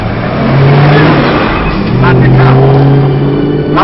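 A car engine revs hard as the car is driven off, a loud rising roar that swells and holds, with people shouting over it.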